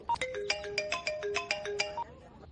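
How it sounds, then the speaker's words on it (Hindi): A phone ringtone plays up close, a quick bright melodic electronic tune of rapid notes lasting about two seconds over faint background hum. "भैया का फोन आ रहा है।"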